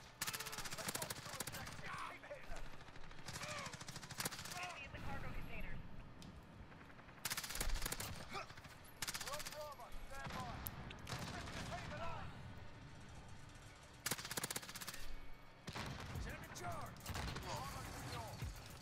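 Call of Duty multiplayer gunfire with MP7 and LMG fire, rapid automatic bursts cracking in repeated loud volleys separated by short gaps, mixed with nearer and more distant shots and an excited voice talking over the action.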